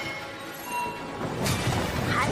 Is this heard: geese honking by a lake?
no